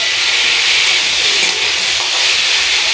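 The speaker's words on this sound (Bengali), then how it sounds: "এবার এটা ভাজতে থাকবো লাল লাল করে" Pumpkin curry vegetables with turmeric fry in a pan, giving a continuous, even hiss and sizzle close up with no speech.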